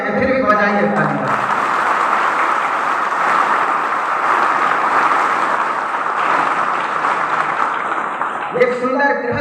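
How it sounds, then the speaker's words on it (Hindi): An audience at a spiritual gathering claps steadily for Satya Kabir Das Ji Maharaj, a dense, sustained wash of applause lasting several seconds. A speaking voice is heard before it starts and again as it fades. "इनके लिए आप सब जितनी तालियां बजाए उतना ही कम है, फिर भी बजाइए तालियां।"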